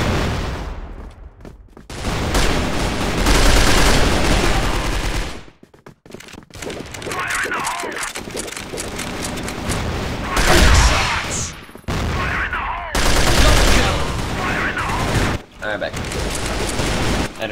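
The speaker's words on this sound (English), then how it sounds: "Shots!" Bursts of Beretta AR-70 rifle fire in a video game, loud dense volleys separated by brief pauses, repeating throughout with a voice speaking now and then.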